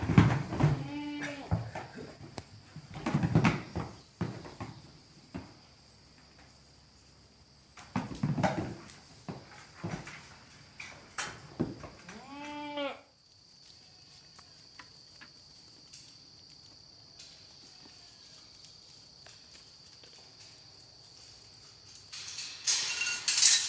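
Goats on pasture bleat in several short, close bursts during the first half, with a steady insect buzz continuing throughout and quieter stretches in between.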